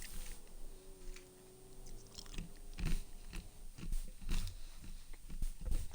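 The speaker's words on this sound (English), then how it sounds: "I don't know if you can hear me chewing or not" Someone chewing crunchy food close to the microphone, with irregular crunches and bites that grow louder toward the end.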